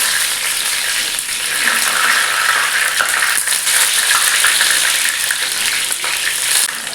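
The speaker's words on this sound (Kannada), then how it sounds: "ಎಣ್ಣೆ ಕಾಯ್ದು ಫ್ರೈ ಮಾಡುವ" Green masala fish fries in heated oil, a loud, close, continuous crackling sizzle that holds steady throughout with no talking.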